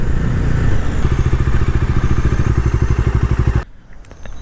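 A motorcycle with dual-channel ABS runs close by with a loud, rapid, even engine pulse that cuts out abruptly near the end, followed by quieter background sound.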